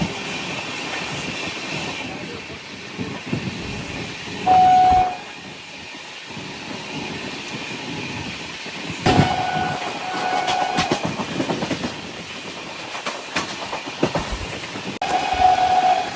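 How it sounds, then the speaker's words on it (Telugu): Devagiri Express passenger train running on rails with a steady rumble and clatter of wheels, a short horn or whistle sounding several times. It is heard close and loud from aboard a moving train, with no talk. "మన లెఫ్ట్ సైడ్లో ఉన్నది దేవగిరి ఎక్స్ప్రెస్"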